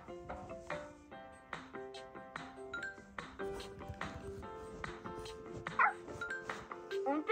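Small puppy yapping barks and yips in a video game pop out repeatedly among bright chiming tones and game music, irregular and fairly quiet.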